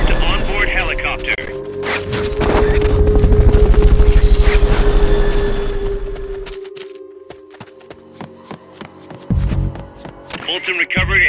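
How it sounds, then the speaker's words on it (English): A helicopter in the video game Metal Gear Solid: Peace Walker swells from a steady rotor drone to a loud roaring pass, then fades away as game music continues and game voices talk over it. "Fulton recovery subject confirmed onboard helicopter."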